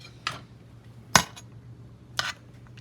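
A spoon stirring simmering chilli sauce in a pot makes three separate metallic clinks against the pot, spaced about a second apart, over a low steady hum with no speech.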